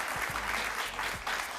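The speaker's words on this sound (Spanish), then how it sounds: "Un aplauso para Ana Mercedes Díaz" Studio audience applauding for Ana Mercedes Díaz during a Venezuelan interview program, a short burst of clapping at moderate loudness that builds and then eases.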